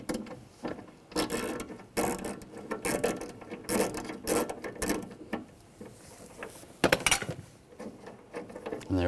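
A ratchet with a T30 socket clicks in quick uneven bursts while loosening a rear window bolt on a 2006-2010 BMW 550i door, close and fairly quiet, with short pauses between runs of ratcheting.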